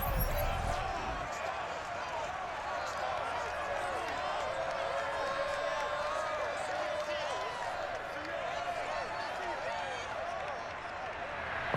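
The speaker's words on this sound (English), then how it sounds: "This crowd, as we've come to expect in recent years, as loud as any in the NFL" Loud, steady roar of a packed Lumen Field stadium crowd in Seattle during a Madden NFL 22 Giants versus Seahawks game, sustained cheering throughout with a commentator's voice running over it.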